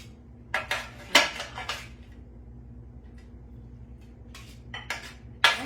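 A cooking pan is washed up in a quiet kitchen with scattered sharp metallic clanks and scrapes, a cluster of knocks early on, a lull, then a few more clatters.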